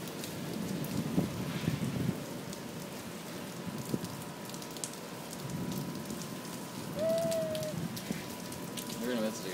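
Rain falls outdoors in Las Vegas with a steady, dense patter on surfaces throughout, while people talk nearby beneath the constant wash of drops.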